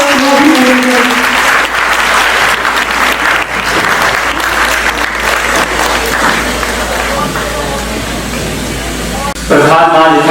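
Loud, sustained audience applause fills a hall at a philatelic stamp exhibition as guests are welcomed, with a steady low hum underneath and a brief swell near the end.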